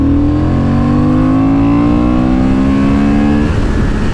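A Honda Hornet 750 motorcycle pulls hard on a country road, its engine note climbing steadily in pitch, loud and close throughout the short burst of acceleration.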